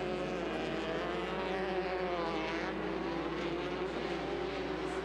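Limited Buggy off-road race cars run an off-road racing track, a steady droning engine roar with shifting pitch holding throughout, fairly distant and continuous with no talk.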